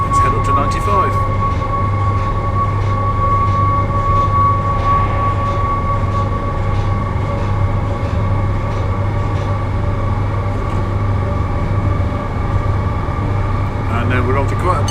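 A train in the Train Sim Classic game, running on the Preston to Edinburgh route, gives a steady, loud rumbling drone with sustained whining tones that stay unchanged throughout.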